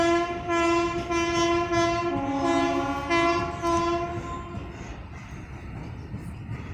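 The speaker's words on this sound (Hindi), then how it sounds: "एक और मालगाड़ी आ गई पीछे जो जा रही है देखिए दिलकुशा की दिशा में" A freight train rolls past Malhaur station, its horn sounding a long steady tone with layered harmonics over a continuous rumble of wagons, loud and close, then fading as the horn stops and the rolling noise continues.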